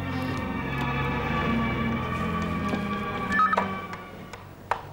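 A telephone is dialed by hand, a short sequence of tones and clicks from the keypad heard up close over a faint room hum, ending with a sharp click.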